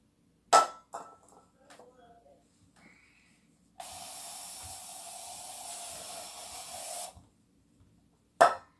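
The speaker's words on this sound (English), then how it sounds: "I'm gonna spray my room here." An aerosol room spray gives one sustained hiss of about three seconds indoors, preceded by faint handling clicks and followed by a sharp knock.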